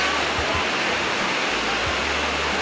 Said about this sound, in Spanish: El mar muy bravo,